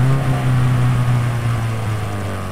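A voice imitating a car engine revving in one slow, steady sweep, a close droning hum that rises and falls gently.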